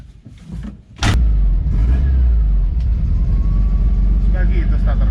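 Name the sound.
Volkswagen car engine starting and revving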